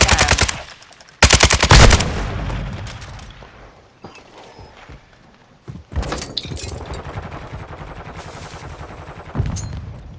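Gunfire from a Kastov 762 rifle in Modern Warfare 2: loud, rapid automatic bursts come in several volleys, with a heavy cluster near the start, then quieter scattered shots and mechanical clatter between them.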